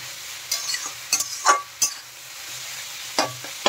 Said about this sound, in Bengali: দিয়ে দিলাম 1 চামচ ভিনিগার, সয়া সস দিয়ে ভালো করে নেড়ে দেব